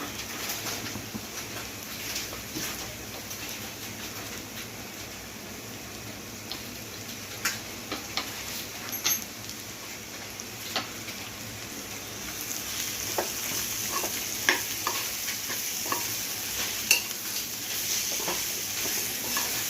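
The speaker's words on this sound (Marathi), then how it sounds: "आता त्यामध्ये टाकते मी हे स्मॅश केलेले बटाटे" Smashed potatoes for a dry yellow potato bhaji, like masala dosa filling, fry in a pan with a soft, steady sizzle broken by scattered scrapes and clicks of stirring, heard alone and fairly faint.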